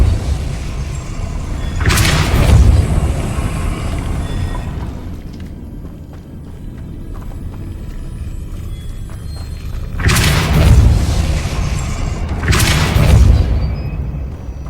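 Depulso is cast in Hogwarts Legacy, producing deep, heavy booms: a pair of thudding blasts early, a long rumbling lull, then two more booming impacts near the end.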